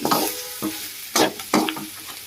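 Chicken roast being stirred in a pan over a low flame, hotel style: a few loud, brief scraping strokes of a spoon against the pan at irregular intervals, close by, over a soft frying sizzle.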